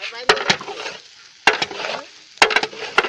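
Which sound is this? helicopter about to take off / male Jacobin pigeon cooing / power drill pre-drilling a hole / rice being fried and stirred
rice being fried and stirred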